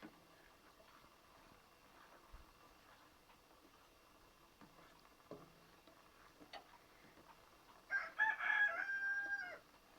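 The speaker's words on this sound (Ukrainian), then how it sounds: "Кури близенько гуляють біля кухні." Quiet outdoor ambience with scattered small knocks, then near the end a rooster lets out one loud, close crow.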